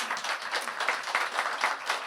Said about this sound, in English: Round of applause for all of that.